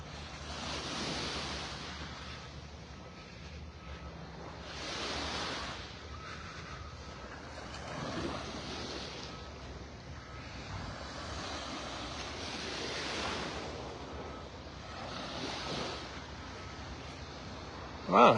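Gentle ocean waves wash onto Vanderbilt Beach in North Naples, Florida, in soft, recurring surges every few seconds, distant and low under faint wind noise.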